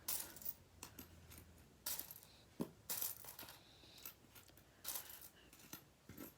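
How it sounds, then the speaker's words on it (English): Metal coins clinking and clattering as they are stacked and toppled on a surface, a run of sharp, bright clicks in irregular bursts, close and fairly quiet with no talking. "the last one I'm going to do is stacking some coins"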